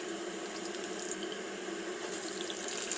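Cut potatoes slide one by one into hot oil tempered with cumin and bay leaf, making a dense, even sizzle that holds steady from start to finish, close and fairly loud, with no talking.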